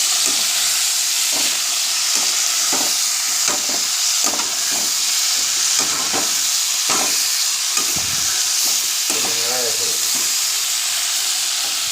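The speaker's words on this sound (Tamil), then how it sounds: "இப்போ வந்து கொஞ்சம் நல்லா கிண்டி விடுவோம்." Food frying in a pan while being stirred during home cooking, a steady loud sizzle with scattered scraping and clinking knocks of a spoon against the pan throughout.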